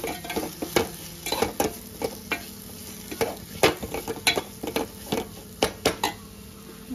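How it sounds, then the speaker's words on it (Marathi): A spoon stirring chilli chutney into a tamarind, jaggery and tomato amti in a pot, with repeated quick scraping and clinking strokes in an uneven rhythm over a faint simmering sizzle. "चांगलं मिक्स करून घ्यायचं।"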